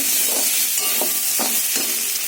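Spice paste of turmeric and chilli powder with a bay leaf frying in oil in a pan, a loud, close, continuous sizzle with a few soft scrapes of stirring.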